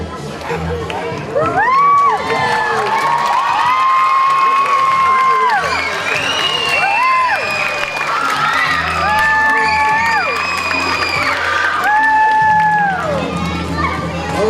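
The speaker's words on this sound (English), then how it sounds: "we can have a nice big cheer" Elementary school pupils at a morning assembly cheer and shout together, a loud sustained crowd roar with rising whoops and squeals over about fifteen seconds.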